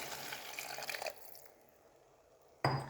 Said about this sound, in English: Now add this water